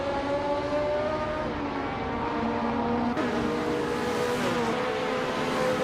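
A 1999 Nissan Primera P11 BTC-class car in a racing video game, its engine droning loudly and steadily with a shifting pitch that drops and climbs again through gear changes, nonstop and with no talking.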